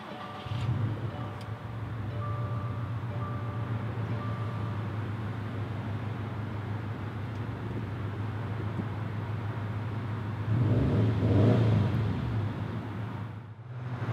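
A 2018 Subaru WRX STI 50th Anniversary with manual transmission starts and then idles, giving a low steady engine hum heard close, with a brief revving swell near the end.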